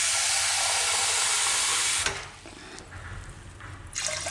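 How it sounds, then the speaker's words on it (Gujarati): Water pours steadily and loudly over palak makkai khichdi in a pot for about two seconds, then drops to a softer trickle and a brief splash. "ખીચડીની ઉપર થોડુંક પાણી હોય એ પ્રમાણે આપણે પાણી નાખવાનું છે."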